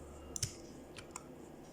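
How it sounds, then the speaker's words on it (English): A few sharp, light clicks of a computer key being pressed while modeling in Blender, close and distinct over a faint steady background hum, spaced apart with no talk. "press 2 on the keyboard"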